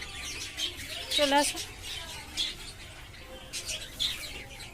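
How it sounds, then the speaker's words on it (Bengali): A colony of lovebirds chirps with sharp, high tweets in scattered bursts, close and fairly loud, while a person briefly speaks. "আজ আমি আপনাদের দেখাবো আমার লাভবার্ডের একটি কলোনি"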